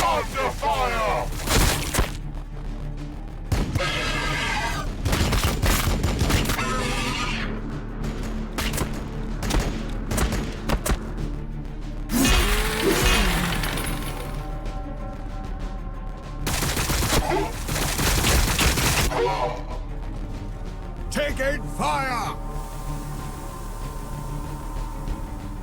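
Gunfire and explosions from the strategy video game Warhammer 40,000 Battlesector, with dense volleys, loud cracks and booms recurring throughout amid game voice lines and battle noise.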